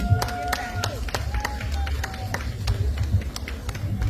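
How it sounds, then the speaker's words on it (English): Audience clapping at a Maroon heritage gathering in Jamaica welcoming an Igbo family: a sparse, uneven patter of hands over low crowd murmur, with background voices. "Please give them another round of applause."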